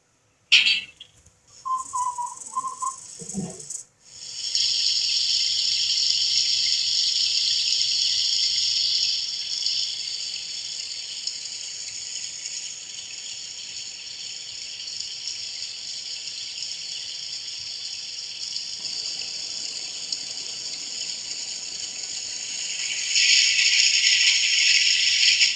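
A Broadway Limited O scale model water tower runs its sound sequence, with a few brief electronic chirps and clicks followed by a long, steady hiss of pouring water that drops slightly midway and then surges again.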